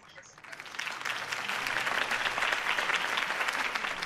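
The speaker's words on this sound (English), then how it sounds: "If only Mr. Wayne, my campaign's largest backer, could have heard that applause" In the video game Batman: Realm of Shadows, applause builds quickly from a quiet start into sustained, dense clapping from a large crowd after a campaign speech, loud and continuous.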